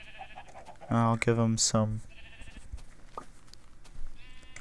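Minecraft sheep bleating in a few loud, close, harmonic bursts back to back, followed by quieter game ambience, with someone talking briefly over the end.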